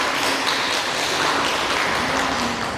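Audience at a relief distribution event for Magar artists in Kaski, Nepal, applauding with steady, dense clapping that fills the space evenly throughout, without any voices over it.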